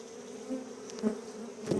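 A honey bee swarm buzzes inside a bait trap, a close continuous droning hum with small swells in loudness.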